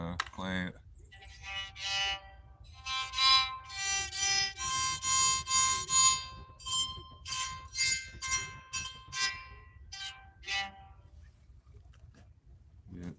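A handmade redwood driftwood violin is bowed indoors, producing a series of wavering sustained notes with scratchy, uneven tone and short pauses between phrases, fairly close and moderately loud.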